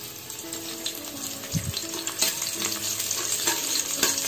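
Green chillies heating in a pan with mustard seeds, a continuous close sizzle and crackle with small popping spatters and occasional stirring clicks, no talk.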